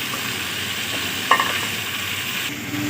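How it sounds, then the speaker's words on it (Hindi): Half a kilo of tomatoes fries for street-style Cholistani chicken karahi, giving a dense, even sizzle close up, with one brief clink of a utensil partway through. "टमाटरों को अच्छी तरह फ्राई कर लेंगे।"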